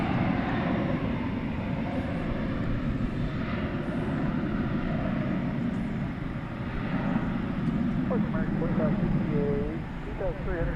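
An American Airlines jet takes off from runway 18 left at DFW airport, a steady, distant engine roar that holds for the whole stretch, with faint speech in the background.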